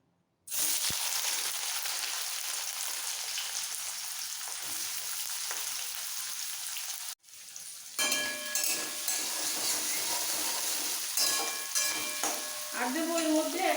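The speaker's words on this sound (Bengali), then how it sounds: "তেল ভালোভাবে গরম হয়ে যাওয়ার পর এর মধ্যে দিয়ে দেবো একটা বড় সাইজের পেঁয়াজ কুচানো" A large chopped onion dropped into hot refined oil bursts into a loud sizzle that holds steady, breaks briefly, then resumes with stirring scrapes and crackles.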